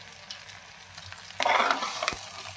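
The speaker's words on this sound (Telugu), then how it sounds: "ఫ్రెష్గా గ్రైండ్ చేసుకున్న అల్లం వెల్లుల్లిపాయ పేస్ట్ వేసుకోండి" Ginger garlic paste sizzling in a pan for mutton brain curry, a steady hiss that jumps louder partway through as the paste hits the hot oil, with light stirring scrapes and no voices.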